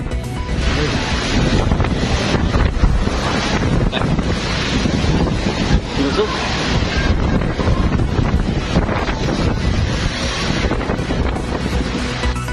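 Strong typhoon winds of 230 km/h in the Philippines roar and gust continuously against the microphone, mixed with churning water noise, a loud, unbroken storm-like blast throughout.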